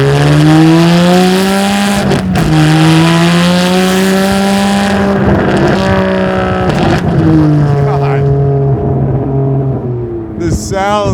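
Custom Ferrari 612 V12 fitted with an S-Klub exhaust, revving close and loud with a steady droning tone that swells and eases over several seconds.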